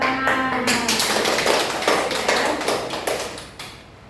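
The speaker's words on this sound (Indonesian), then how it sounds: "Ya benar, tepuk tangan." A burst of applause from a group of children in a classroom, quick overlapping claps at close range that taper off toward the end.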